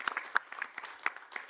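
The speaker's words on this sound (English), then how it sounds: "A round of applause as well." Scattered hand claps from a small conference audience, a few distinct claps spread unevenly and fairly quiet, like a brief thin round of applause fading in and out.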